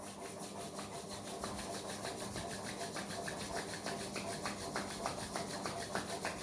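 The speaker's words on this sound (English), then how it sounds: "Rub your palms without opening your eyes." Palms rubbing briskly together during a yoga session, a steady, soft dry friction that runs continuously for several seconds at close range with no talk.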